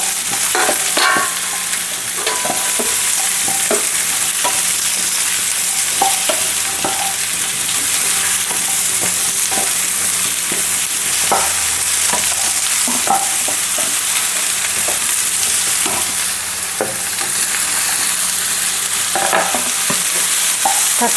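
Okra sizzling in coconut oil in a pan for a Kerala-style curry, with a steady loud fry hiss and repeated clinks and scrapes from stirring throughout, and no talking.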